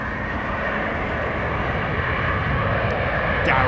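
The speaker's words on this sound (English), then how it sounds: "Turkish 777, just about to go over here, just to the north" Turkish Airlines Boeing 777 from JFK to Istanbul passing overhead near London Heathrow, a continuous broad roaring jet rumble, loud and steady throughout with no voices.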